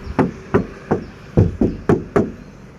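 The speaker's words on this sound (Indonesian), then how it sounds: "Ketokin aja semua, Bu." Knuckles knock on the metal body panels of a used former taxi, seven sharp hollow raps in an uneven rhythm, loud and close with no talk.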